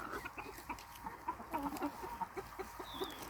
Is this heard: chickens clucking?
yes